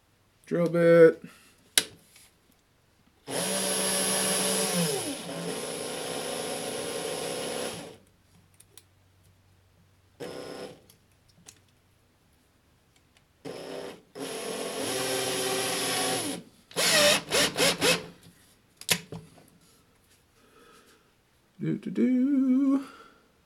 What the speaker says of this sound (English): Got a drill.